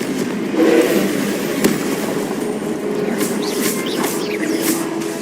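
Confringo blasting-spell explosions in the video game Hogwarts Legacy, loud and continuous, with one sharper blast standing out and lighter crackling bursts over a dense rumbling bed.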